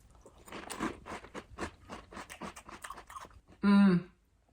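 Someone eats candy-cane Christmas cereal with crunchy red stars in milk, making close, rhythmic crunching and chewing bites in quick succession, followed by a short, sharp tonal squeak at the end.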